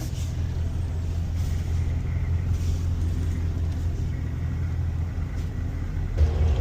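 Low, steady engine rumble from a vehicle towing an Airstream travel trailer, close and continuous, with a brief thump near the end.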